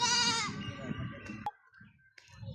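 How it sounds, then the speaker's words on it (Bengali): A goat lets out a single wavering bleat nearby, followed by quieter rustling and soft clicks. "ছাগল।"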